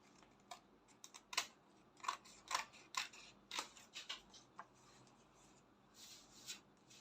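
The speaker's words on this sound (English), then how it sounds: "So I'll quickly cut off the excess I have right here." Scissors snip away excess fabric from a draped asymmetric bustier pattern, a steady run of quiet, close crisp cuts with brief gaps, fading toward the end.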